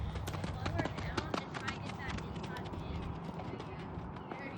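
Horse hooves clip-clopping in a rhythmic canter during a riding session, steady and fairly close, with occasional rustle and noise throughout.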